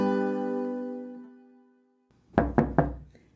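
Three quick, solid knocks on a door, close and distinct, following a fading musical tone and a short silence.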